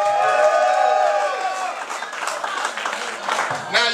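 A comedy club crowd answers a stand-up comic's prompt with loud cheering and clapping, a dense wash of voices and hand claps that swells early and fades slightly toward the end.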